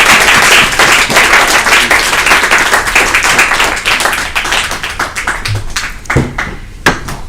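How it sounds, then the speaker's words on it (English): Loud, dense applause from an audience at a student union referendum debate, steady at first and thinning into scattered claps toward the end. "everyone give a round of applause"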